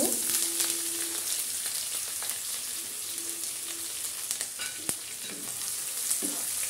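Onions frying in oil with cloves, green and black cardamom for beef biryani: a steady, close sizzle with intermittent stirring scrapes and a sharp clink near the middle, no talking.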